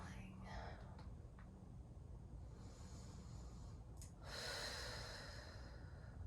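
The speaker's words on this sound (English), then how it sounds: "Take a nice deep breath. Inhaling and exhaling." Quiet, slow breaths drawn in and let out during a supported bridge on a core ball in a Pilates workout, with a soft inhale early on and a fuller, airy exhale near the end.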